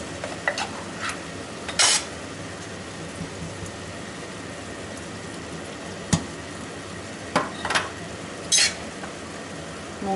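Julienned carrots and corn stirred in a hot pan for Colombian empanada filling, a faint steady sizzle broken by a few sharp scrapes and clinks of the utensil against the pan.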